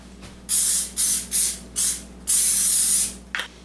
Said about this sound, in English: I think I'm going to spray the 9 by 13 dish.